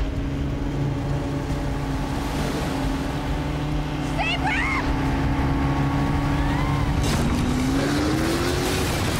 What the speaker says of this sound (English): a speedboat raced out of the darkness